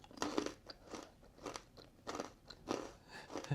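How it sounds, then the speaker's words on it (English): Crunchy bites into a sourdough pretzel topped with maple cream at a New Hampshire sugar shack, with several loud, close crunches and chewing coming in bursts and no talking. "As everybody hears you crunching away."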